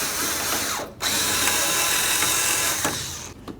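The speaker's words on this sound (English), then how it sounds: "Now I'm going to start in all 3 of my bolts before I snug any of them up." A ratchet drives the headlight mounting bolts on a 2007-12 Dodge Caliber, giving a close, steady mechanical whirring rattle with a brief break near the start and another toward the end.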